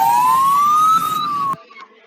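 An emergency alert alarm tone sounds as a loud, steady pitched wail that rises slightly, then cuts off abruptly after about a second and a half, leaving faint residual tones.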